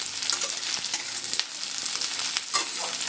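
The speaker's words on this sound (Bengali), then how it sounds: "রসুন কিন্তু ভেজে নিচ্ছি" Onion, green chili and garlic sizzle steadily in a pan, with a few scrapes of stirring. The frying is loud and close and no one speaks.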